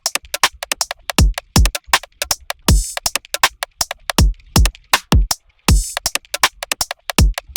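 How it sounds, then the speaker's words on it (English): A filtered original drum stem layered with other drums in a remix: punchy kicks and crisp snares in a steady, busy loop, alone with no voices. "So that's just the original drum stem that I've like filtered"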